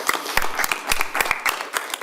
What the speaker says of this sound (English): I thought we better clap now